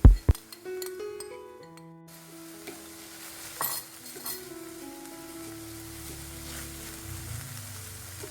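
A spoon stirs a tuna and sweet corn filling seasoned with sugar, salt and black pepper in a pan, giving clinks and scrapes over a soft sizzle, with sharp metallic taps at the start.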